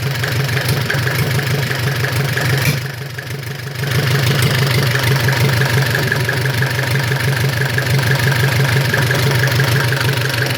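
A Mercedes OM604 diesel engine with a mechanical injection pump, from a Vito W638, runs with a steady knocking clatter, held at raised revs with a brief dip before settling back to a constant drone.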